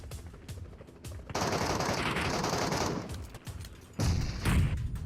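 Rapid automatic gunfire crackles in bursts during a Metro Royale firefight, with dense rattling volleys broken by short gaps and a heavier, closer burst near the end, played alone without voices.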